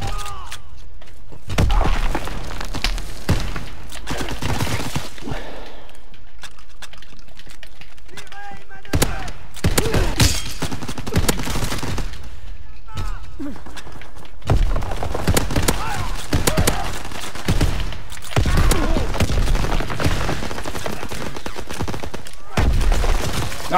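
Gunfire in Call of Duty WWII, several shots and bursts scattered through a loud busy game mix, with people talking over much of it.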